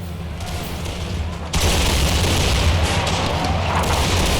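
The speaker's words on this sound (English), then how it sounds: "That was a great volley." A musket volley from Grenadiers in Empire: Total War erupts partway through as a loud, dense crackling roar over battlefield ambience and keeps rumbling to the end.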